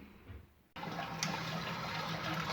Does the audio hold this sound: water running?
yes